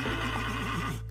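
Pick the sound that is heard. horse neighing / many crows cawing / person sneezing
horse neighing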